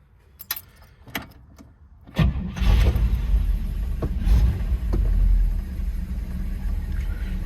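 A 1955 vehicle: keys jingle briefly, then the engine cranks and catches, settling into a steady, loud, low idle rumble that carries on to the end.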